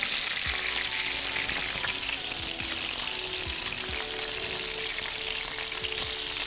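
Minced meat kebabs fry crisp in a pan of hot oil, giving a steady, close sizzle throughout with faint pops and crackles.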